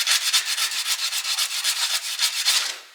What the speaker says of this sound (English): There we go. Sandpaper.